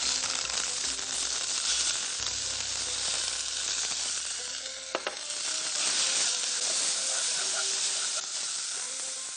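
Black mustard seeds, curry leaves and grated onion sizzle steadily in a hot pan, a continuous loud frying hiss with small crackles, heard alone without talk.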